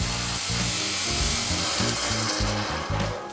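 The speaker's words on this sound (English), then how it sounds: "I need to square them off on the disc sander" A loud, continuous abrasive grinding of a disc sander squaring off wooden pieces for a nest of tables, with pulsing low tones as pressure shifts, close and unbroken.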